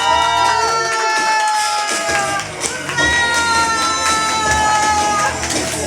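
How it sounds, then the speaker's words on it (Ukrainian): A crowd cheers and claps loudly at the official opening of Valenti Clinic, an infectious-disease doctor's clinic on Sumska Street in Kharkiv, with shouts and voices mixed into a dense, continuous roar. "Аплодисменты, друзья."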